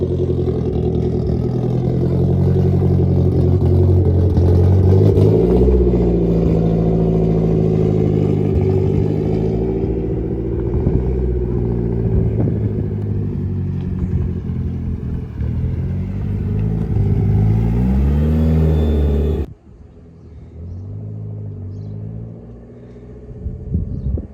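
A Nissan S13 Silvia coupe idles loudly up close with a deep rumbling engine, then revs and pulls away on a test drive, the sound dropping off sharply as it leaves.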